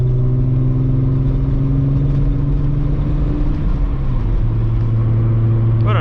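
Engine of a cruising MK3 car (Volkswagen) with a steady, loud low drone and constant road noise from inside the cabin, no pauses.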